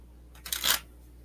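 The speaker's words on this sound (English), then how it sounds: "Shuffle our deck in front of God and everybody." A deck of playing cards gets a single quick shuffle, a brief papery riffle that swells and fades within about half a second, heard alone and fairly close.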